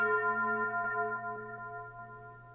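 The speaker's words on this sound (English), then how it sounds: "There's a church bell sound, which gets my attention" Church bell voice on a Roland GO KEYS 3 keyboard: a sustained, ringing tone rich in overtones with soft repeated strikes, slowly fading, heard alone.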